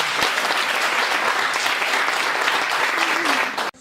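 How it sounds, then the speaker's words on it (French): Sustained applause from a church congregation, steady and loud throughout, cutting off abruptly at the end. "Applaudis pour mon Jésus"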